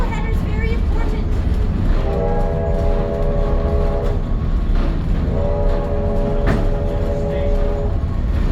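A steam locomotive's horn sounds twice in long steady chords over the continuous rumble and clatter of a moving doubleheader heritage train, loud and close.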